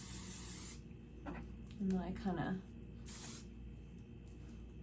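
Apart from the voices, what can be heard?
Catwalk Your Highness weightless shine spray sprayed on hair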